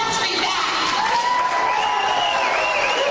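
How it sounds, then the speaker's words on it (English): A town hall audience erupts in loud, sustained applause mixed with cheering and whoops, a dense continuous roar of the crowd filling the whole moment. "the crowd's gone absolutely wild over this claim"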